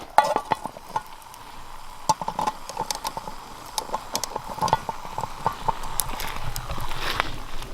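Hemlock needle tea water at a rolling boil in a lidded pot outdoors in the snow, giving a steady, fairly quiet bubbling crackle with scattered sharp pops and clicks and no voices.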